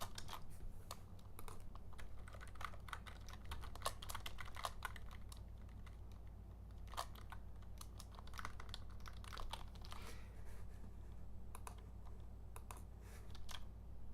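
Steady, quiet keystrokes on a computer keyboard while Z80 assembly code is entered, irregular clusters of sharp clicks over a constant low electrical hum.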